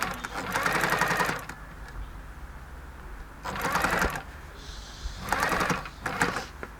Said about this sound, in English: And then I can stitch this facing on.